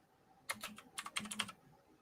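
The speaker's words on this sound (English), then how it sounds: "I know I have the extremely loud keyboard going." Very loud computer keyboard clattering in a quick burst of keystrokes lasting about a second, close to the mic, with no voices.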